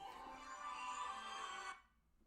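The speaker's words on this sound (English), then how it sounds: "I just got a phone call" A phone ringtone plays for an incoming call, a steady faint melodic electronic tone that holds for most of the moment and then cuts off abruptly.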